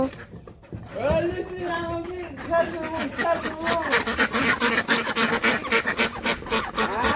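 A flock of ducks quacks and honks continuously, the calls growing busier and denser, with a voice mixed into the noise.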